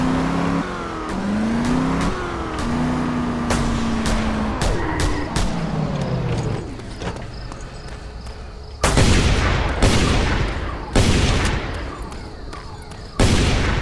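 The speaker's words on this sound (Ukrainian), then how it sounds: "Я стріляю." In the video game Just Cause 2, a vehicle engine revs and whines in rising and falling pitches, and then several sharp bursts of gunfire crack out loud and close, with short silent gaps between them.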